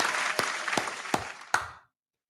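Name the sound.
round of applause on a stream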